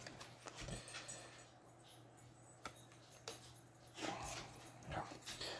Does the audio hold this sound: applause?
no